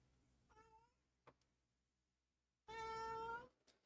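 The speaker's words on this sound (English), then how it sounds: "Oh, that's why I'm hearing a cat." A cat meows twice, a short call and then a longer, louder drawn-out meow, close to the mic in a quiet room with a faint click between them.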